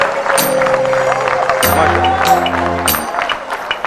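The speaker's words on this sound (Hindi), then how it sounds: "बहुत सारी तालियां इनके लिए होनी चाहिए, बहुत सारी तालियां।" A studio audience at a live Ramadan transmission applauds in a loud, continuous wash of clapping and crowd noise, with sustained musical tones running underneath and brief bright bursts.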